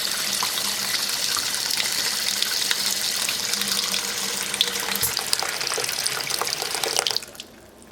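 Tap water runs steadily into a sink as fresh plant leaves, picked for pesto, are rinsed under the faucet, a close continuous splashing rush that cuts off abruptly near the end.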